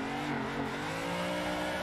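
A car engine revs at full throttle in a drift simulator video game, a steady, loud, sustained drone with a slowly rising pitch and no talk.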